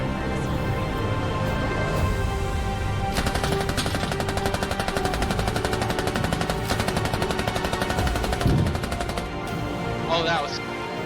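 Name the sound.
gunfire in a video game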